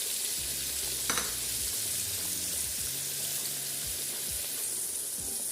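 Whole spices, two pieces of cinnamon with six or seven cloves and black peppercorns, sizzle steadily in hot oil in a pan, a constant close hiss with a brief sharp crackle near the start.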